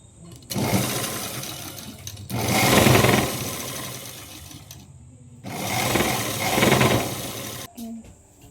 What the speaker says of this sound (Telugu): లైనింగ్ని ఇలా డబుల్ ఫోల్డింగ్ వేసి ఇలా కుట్టుకోవాలి